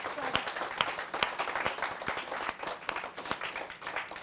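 Applause from an audience welcoming a poet on stage at a poetry gathering, steady dense clapping with sharper individual claps standing out, continuous throughout.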